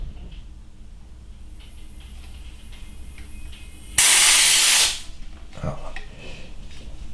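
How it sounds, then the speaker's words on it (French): Compressed air hisses loudly into a PCP air rifle, a Snowpeak P35, as it fills to 100 bar. One steady, strong burst lasts about a second, with quieter background noise before and after. "On va recharger jusqu'à 100 bars et après je fais le reste avec la pompe."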